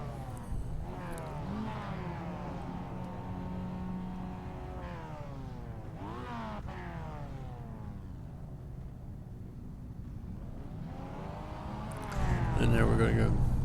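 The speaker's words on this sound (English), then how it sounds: "Hear a lot of people shifting in and out of gear." Video-game race cars, VW Jetta TDIs, rev and shift gears in rising and falling engine sweeps, several cars overlapping, with a louder engine surge near the end; a voice talks over them throughout.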